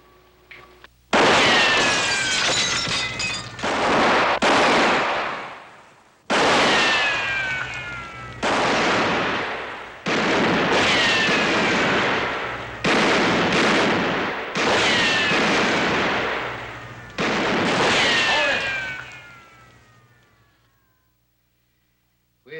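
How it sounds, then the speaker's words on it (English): A western TV shootout fills with loud, booming gunshots that come in repeated bursts, several followed by whining ricochets, before the firing dies away into silence. "You can keep shooting all day if you're a minder"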